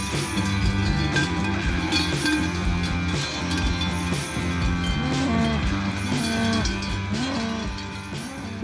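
Hérens cows low and moo repeatedly during cow fights on the Alpage de Rouen, an alpine pasture. The deep calls overlap loudly and continuously, with some sounding near and others farther off.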